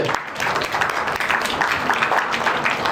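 Audience applause fills a film screening, a dense, steady wash of clapping from a crowd that carries loudly through the whole stretch without a break.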